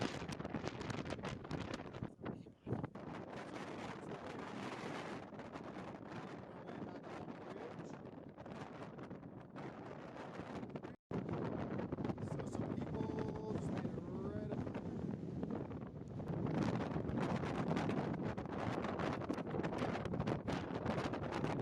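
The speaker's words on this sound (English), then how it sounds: "It has been unforgivable wind up here" Strong wind on the summit of Mt. Sherman, a Colorado fourteener, roars and buffets the microphone almost without pause, dropping briefly only near the start and midway, with no talk.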